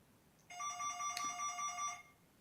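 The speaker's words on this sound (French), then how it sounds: "Oh, c'est mon téléphone qui sonne." A mobile phone ringtone plays a short, bright electronic tone pattern that starts abruptly, holds for about a second and a half, then stops, clear against a quiet room.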